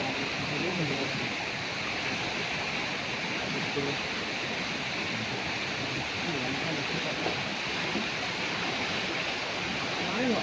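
Ciwaka River flowing under a village bridge, a continuous broadband rush of water that stays loud and even throughout, with no clear voices standing out above it.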